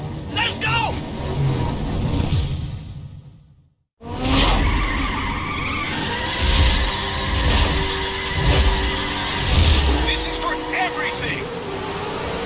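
A car race in the video game The Crew roars with engine revs and screeching tire skids, loud and continuous with a brief cut to silence, while game voices speak over the action.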